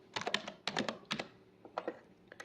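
Typing on a computer keyboard to fill in a form field, clusters of sharp close key clicks in quick uneven bursts separated by brief pauses, crisp and alone without talking.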